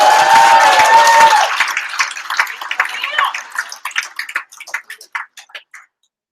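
An audience at a hackathon's evening judging session breaks into a round of applause after a noisy opening, then the clapping thins out into scattered, fading claps before silence.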